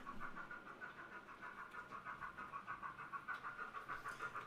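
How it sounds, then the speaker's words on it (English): A low, continuous rumbling hum with a rhythmic pulsing as a long model freight train runs steadily along a model railway layout. "a big, nice, long freight train there"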